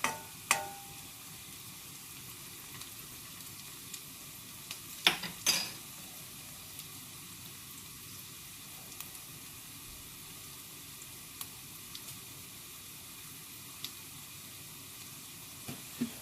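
Onions browning in a steel karai pot, a steady soft sizzle throughout with a few sharp clinks of utensil against metal, quiet and close.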